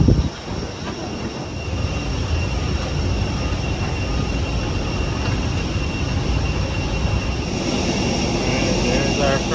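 Loud, steady jet engine roar and high whine from a Frontier airliner at the gate during boarding, close and continuous, with wind rumble across the microphone and faint voices underneath.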